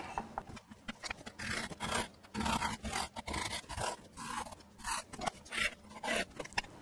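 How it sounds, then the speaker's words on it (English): A hand saw cuts dovetail tails in wood with rhythmic back-and-forth rasping strokes, close and moderately loud, in repeated bursts with short pauses and no talk. "Now with those cut lines, I can fully cut these tails."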